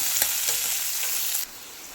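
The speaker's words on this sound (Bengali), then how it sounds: "পেঁয়াজ দিয়ে একটু নাড়িয়ে নিচ্ছি পেঁয়াজটা একটু ভাজা ভাজা হয়ে আসলে শাকটা দিয়ে দেবো" Onions fry in a pan for water spinach, with a loud, bright continuous sizzle and faint stirring scrapes, then the sizzle abruptly drops to a quieter hiss.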